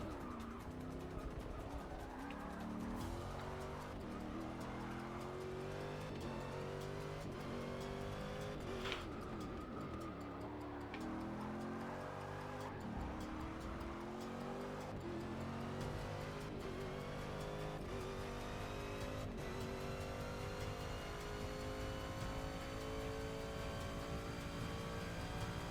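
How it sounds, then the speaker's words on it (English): Race car engines drone and rev continuously in Forza Motorsport 6 during a 2017 Rolex 24 race simulation, with rising gear sweeps, a rival engine running close alongside and occasional tyre squeal and skids, loud and steady throughout with no talk. "I like the sound of his engine next to mine as well"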